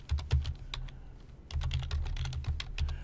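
Rapid keystrokes on a computer keyboard while a name is typed during a Java programming class, in two close, steady bursts separated by a short pause, with no talking.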